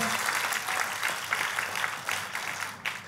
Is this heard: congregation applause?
yes